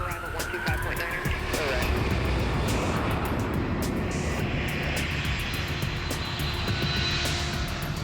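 A Lockheed C-5 Galaxy heavy military cargo jet departs at an air base, a loud sustained roar of jet turbines with broad rumbling wash, while a voice talks faintly beneath it.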